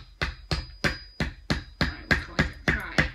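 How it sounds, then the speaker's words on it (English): A plastic toy hammer taps repeatedly on the plaster block of a T. rex dinosaur excavation kit, about ten steady, close knocks roughly a third of a second apart with no talking. "Can I just hammer it?"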